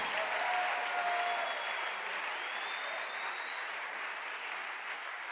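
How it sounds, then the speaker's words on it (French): A church congregation applauds in a sustained, dense wash of clapping that fills the space evenly and fades slightly toward the end, with faint voices mixed in. "Oh, acclamons Jésus. Acclamons Jésus."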